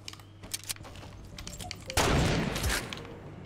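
Gunfire in the Fortnite battle royale game: scattered sharp shots at first, then a loud burst of rapid firing that dominates the middle and end, with faint background noise.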